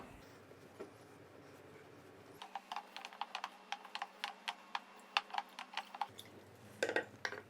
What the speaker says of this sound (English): we smash our mango